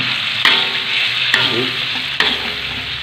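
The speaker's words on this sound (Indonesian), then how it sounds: "Kita tumis lagi." Tempe with its seasoning paste being stir-fried in a pan over a small flame, a bright continuous sizzle broken by three sharp spatula knocks against the pan, close and alone.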